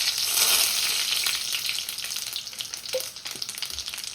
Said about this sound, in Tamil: 3 மேசக்கரண்டி நல்லெண்ணெய் வந்து விடுறேன். இப்போ இதோடு சேர்த்து இனி நான் பெருஞ்சீரகம் சேர்க்க போகிறேன்.